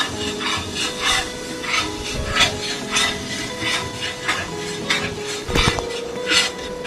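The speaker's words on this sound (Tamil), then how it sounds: "பச்சை வாசனை போகிற வரைக்கும் வதக்குங்க" Ground masala paste for Dindigul-style biryani is stirred and scraped in a pot, with repeated rhythmic rubbing strokes of a spatula against the pan, close and fairly loud, with no talking.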